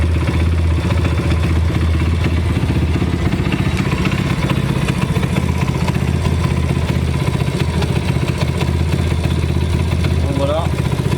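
A motorcycle engine runs steadily up close on a bench during a CDI ignition module change, a rapid, even mechanical clatter throughout, with someone talking over it.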